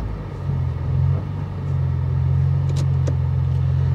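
A BMW M3 E46 CSL pulls away from a standing start with no launch control, its engine a steady low rumble that swells and holds, close and loud with no voices.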